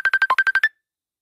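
A mobile phone ringtone plays eight quick, evenly spaced electronic beeps, loud and close, then stops into silence.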